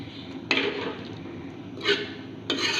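A spoon scraping and stirring rajma (kidney bean) curry in a pot after garam masala and coriander go in, three distinct rasping strokes spaced apart, close and fairly quiet.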